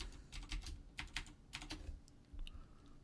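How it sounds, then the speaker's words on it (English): Quiet, rapid keystrokes on a computer keyboard in short bursts, faint and close with no voices. "Control C on your keyboard."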